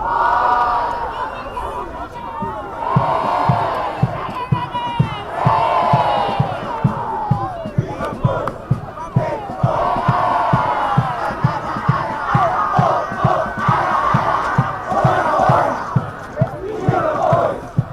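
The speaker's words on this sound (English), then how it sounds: "lots of school spirit in the crowd as both schools are rallying their boys out to play some fantastic rugby" A crowd at a Zimbabwean schoolboy rugby match between St John's and Hellenic Academy chants and cheers loudly and continuously, with a steady rhythmic drumbeat pounding under the massed voices.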